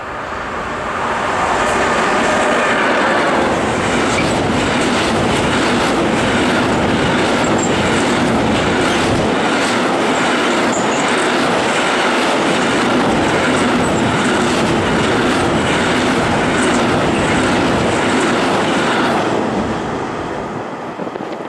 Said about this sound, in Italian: così voi state qua col treno che passa